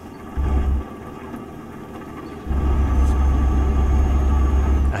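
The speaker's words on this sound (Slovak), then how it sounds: "ten zvuk motora je proste príliš nahlas" A MAN TGX truck engine in the game Euro Truck Simulator 2 gives a deep, steady low rumble, driving in the rain. It swells louder twice and holds loud at the end, with no talking.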